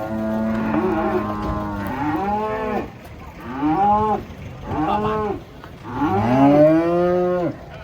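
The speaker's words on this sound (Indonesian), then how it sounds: "ini akhirnya sapi yang terbesar ini keluar dari hanggar" Cattle moo loudly and close by while being unloaded from a truck, several long, drawn-out calls in a row with brief pauses between them.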